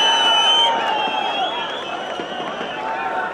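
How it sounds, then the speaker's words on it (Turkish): A crowd at a kopkari horseback game in Zomin, Oqtosh claps and cheers for the wrestler Ruslan. The applause rolls on steadily throughout, loud and dense, with voices mixed into the din. "Alkışlar Ruslan balvanga alkışlar."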